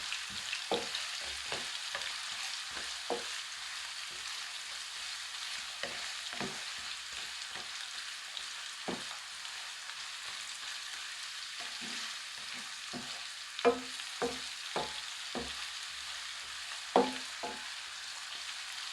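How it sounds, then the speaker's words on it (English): Steady sizzle of onions frying in a pan for a vegetable curry, with scattered soft clinks and scrapes of stirring, a few louder knocks near the end. "my onions have been frying now and they're starting to get nice and soft"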